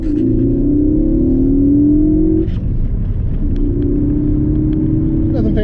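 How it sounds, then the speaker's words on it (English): A 2016 Ford Focus ST pulls away hard with its turbo, engine pitch rising under load, dropping at a gear shift and then climbing again, loud and close inside the car. "this is going to be just a takeoff before I get the blow-off valve installed"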